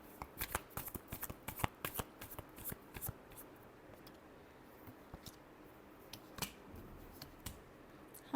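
Tarot cards are shuffled in quick, dense bursts of crisp papery riffles for about three seconds, then the flicks thin out into sparse, scattered snaps, all fairly close and with no voices.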